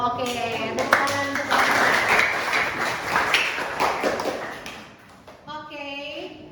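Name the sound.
classroom applause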